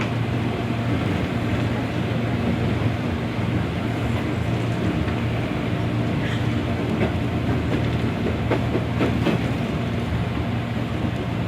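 KRL commuter train on the Bogor Line running along the rails, a steady loud rumble and hum heard from inside the carriage with occasional rattles and clicks of the wheels over the track.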